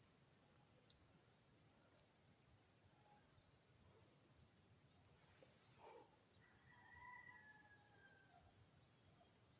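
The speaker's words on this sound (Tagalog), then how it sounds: "May manok." Far off, a chicken crows faintly beneath a constant, loud chorus of crickets and insects that dominates the whole stretch.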